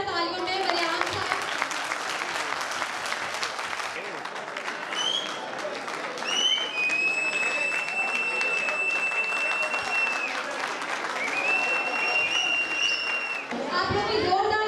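Sustained loud applause from an audience at a Pakistan Muslim League Minority Wing program on Minority Day, honoring Bariyam Sahab as he presents a medal, with crowd chatter and a few whistles running throughout until it fades near the end.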